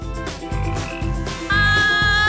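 Cartoon-style frog croaks used as a sound effect, repeating in a steady rhythm of about two per second. The croaks are loud and close, with a bright ringing tone joining in partway through.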